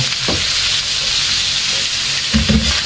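Meat sizzles and fries loudly in its own rendered fat, a dense continuous hiss close up with a few brief stirring knocks near the end.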